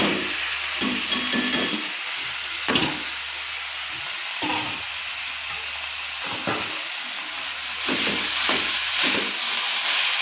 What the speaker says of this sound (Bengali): কলা ফুলের মোচাটা দিয়ে ভালো করে আমি কষে নেব